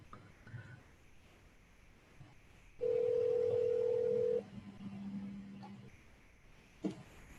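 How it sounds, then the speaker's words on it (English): A home phone being called: a loud, steady electronic tone holds for about a second and a half, then a quieter, lower tone follows briefly, with faint background noise and no voices. "Let me try his home phone."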